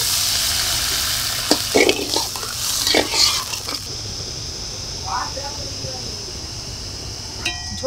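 Water goes into a pan of sizzling, well-fried spice masala for a goldfish curry, a splashy rush followed by a softer, settling sizzle and hiss, with a voice talking over the cooking.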